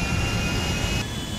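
A passenger airplane's jet engine roars in GTA 5 with a steady, loud whine and rumble, a high tone holding through before the pitch shifts slightly near the end.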